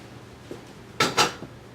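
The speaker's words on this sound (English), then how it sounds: "Now we're going to whisk in the butter." Whisking butter into a freshly boiled custard for a fruit tart, heard as a couple of quick clattering scrapes of metal against a bowl, close and brief, with softer taps around them in a quiet kitchen.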